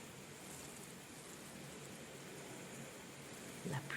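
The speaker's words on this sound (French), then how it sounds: "La pluie revient, elle est déchaînée." Heavy, driving rain pours down in a steady, dense hiss that stays even and fairly soft throughout, with no voices over it.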